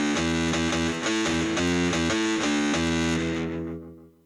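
Heavy distorted electric guitar patch played on a MIDI keyboard, loud sustained power chords changing in a steady rhythm, fading out over the final second.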